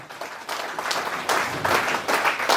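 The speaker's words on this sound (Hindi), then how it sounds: "मैं चाहूंगा आप लोग खुद के लिए एक बार जबरदस्त तालियां।" Seminar audience breaking into applause, starting quietly and swelling into full, energetic clapping from a sizable crowd that keeps rising in waves.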